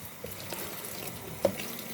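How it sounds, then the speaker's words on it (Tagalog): Cold tap water runs softly into a sink while salted cabbage for kimchi is rinsed, a faint continuous trickle with a few small splashes and handling sounds. "hugasan natin siya ng malamig na tubig"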